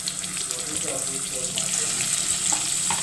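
Two medium onions fry in six spoonfuls of oil in a pan, giving a continuous close, even sizzling hiss with a few small pops and no talking.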